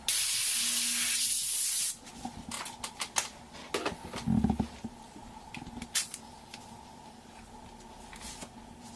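An airbrush dusts blue paint across a surface in an airbrushing lesson, giving a steady loud hiss for the first two seconds, then short soft bursts and clicks of spraying at lower level.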